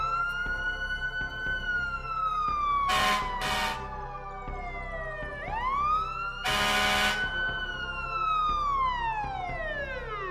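A loud ambulance siren wails in long rising and falling sweeps, close by, with brief bursts of noise cutting in twice.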